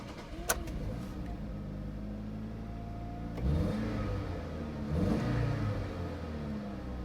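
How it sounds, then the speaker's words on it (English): A 2005 Ford Escape engine runs steadily after being cranked and started, heard close up with a rumbling idle that swells twice in brief revs. "I'm going to go ahead and try to give this thing a crank and see if it fires up."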